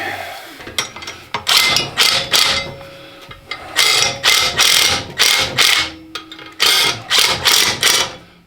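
Ratchet wrench tightening engine mount bolts on a Cub Cadet 582 pulling tractor build, heard as bursts of rapid metallic clicking in repeated strokes, close and loud, with brief pauses between runs.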